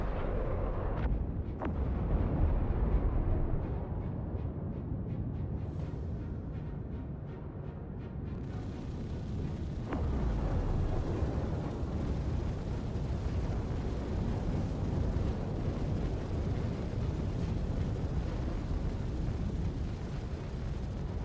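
Continuous heavy weapon fire at a ship in the Star Citizen space game, a dense, loud, rumbling barrage of booms and blasts that carries on throughout with no voices.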